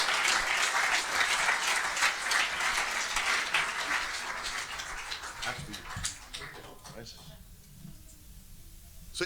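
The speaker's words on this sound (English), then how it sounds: "Would you please give a great round of applause to Adam" An audience at a drum festival breaks into loud, dense applause for a helper, the clapping strong at first, then thinning and fading away toward the end.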